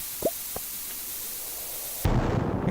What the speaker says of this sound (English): Explosions are cool!